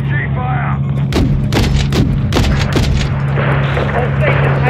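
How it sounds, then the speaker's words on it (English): Gunfire and RPG blasts in a Call of Duty Modern Warfare 3 firefight: several sharp, loud explosive shots in quick succession over a steady low rumble, with faint battle noise continuing after the volley. "We're taking RPG fire!"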